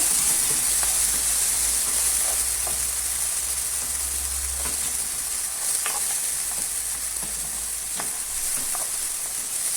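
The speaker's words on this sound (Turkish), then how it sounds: "Şöyle birazcık kavuralım, Bir iki çevirelim içinde." Steady hiss of chopped tomatoes sizzling in a hot frying pan, with occasional soft stirring clicks, continuous and close, no talking.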